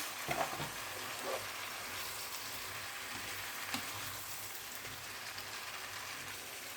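Tomatoes for a bulgur pilaf with green beans fry in a pan with a quiet, steady sizzle and crackle, and a few soft stirring bumps.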